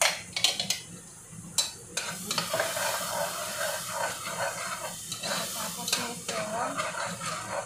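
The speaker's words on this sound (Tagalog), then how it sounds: "Igisa natin yung saglit." Tomato sautéing for a macaroni dish, a steady close sizzle with spoon stirring and scraping clatter throughout, no talking.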